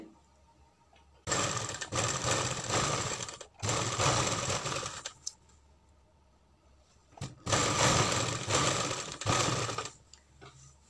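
An electric sewing machine stitches piping onto a sleeve in three long loud bursts of rapid whirring needle action, stopping and restarting, with quiet pauses between runs and no talk.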